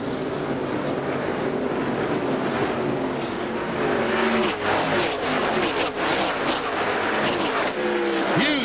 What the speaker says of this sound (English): Oh, and Sterling Marlin's going to get hung behind the 66